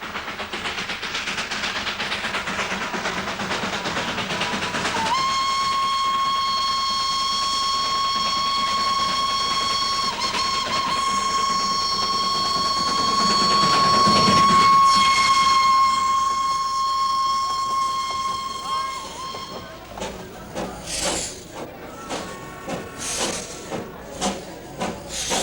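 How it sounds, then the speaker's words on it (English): A small hill train runs near Kurseong, its steam whistle holding a long, loud tone. Rumbling wheels and rail clatter carry on beneath it and continue in rhythmic bursts once the whistle stops. "the little hill train runs smack down the middle of the main street"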